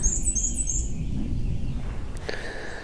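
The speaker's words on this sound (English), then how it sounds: "We've got ovenbirds calling, which always seem to be the loudest bird in the forest." High, rapid bird calls ring out in an Appalachian forest, two short bursts of chirping early on then a brief call near the end, fairly clear over a low rumbling background.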